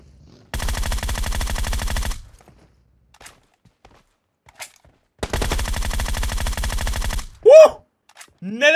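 Two long bursts of rapid automatic gunfire ring out in PUBG Mobile, separated by a few seconds of near silence, followed by a brief shout.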